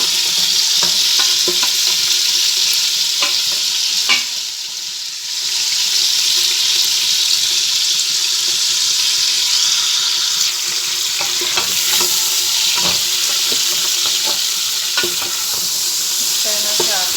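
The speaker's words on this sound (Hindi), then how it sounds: "तो गोश्त को जो है हमने पहले फ्राई करना है थोड़ा सा।" Beef pieces frying in a pot with coriander and garam masala powder for nihari, a loud continuous hiss and sizzle with occasional stirring clatters and a brief dip near the middle, heard alone.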